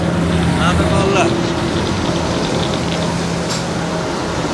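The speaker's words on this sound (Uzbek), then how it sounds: "Katta motorlar." Large electric motors drive a grinding mill at a brick factory where soil is crushed and sieved, giving a loud, steady, unbroken mechanical drone and whine for the whole stretch.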